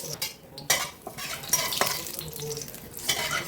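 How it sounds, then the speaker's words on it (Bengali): Whole cumin seeds, a bay leaf and small pieces of cinnamon stick go into hot oil in a pan and crackle softly, with a quick clatter of a spoon stirring against the metal. "এখন মশলা কষায় নেবো এর জন্য দিয়ে দিচ্ছি হাফ চামিচ আস্ত জিরা একটা তেজপাতা মাঝখানে ফাঁড়ি দিয়ে দিয়ে দিচ্ছি আর ছোটো দুই টুকরা দারচিনি"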